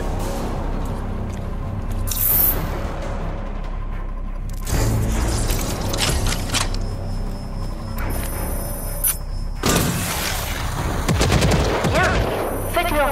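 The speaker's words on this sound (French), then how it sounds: "le lance-roquette intelligent peut se verrouiller sur une cible et tirer plusieurs roquettes chasseuses" Smart rocket launcher in Rage 2 firing volleys of homing rockets, rapid bursts of launches and blasts in quick succession, loud and close, with explosive booms between them.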